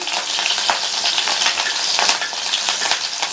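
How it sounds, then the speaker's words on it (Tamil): Green chillies, mustard seeds and cumin fry in hot oil for a drumstick side dish, producing a loud, continuous sizzle dotted with sharp little crackles and pops, close up and alone. "நம்ம சேர்த்த இந்த பச்சை மிளகாய் எண்ணெயிலேயே நல்லா வதங்கட்டும்."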